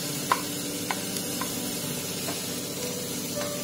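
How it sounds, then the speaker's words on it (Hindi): Capsicum, carrot, beans and cabbage stir-fry in butter over a high flame for a soup, a close steady sizzle with a few sharp spoon clicks against the pan. "हाई फ्लेम पर इसको हल्का सा बटर में भून लेंगे"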